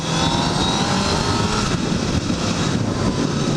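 A 2009 Honda CBR1000RR Fireblade motorcycle accelerating on the road, its engine a steady loud drone overlaid with heavy rushing wind noise, with no talk.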